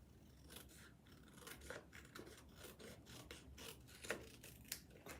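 Scissors snip through a paper template in a steady series of quiet, crisp cuts and rasping slides, close and faint, with no talking.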